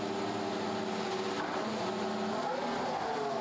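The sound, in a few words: Ferrari Formula 1 car driving on track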